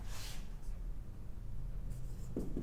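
A marker scratching a statement onto a board during a physics lesson, short quiet strokes at the start and again near the end over a low room hum, with no talk.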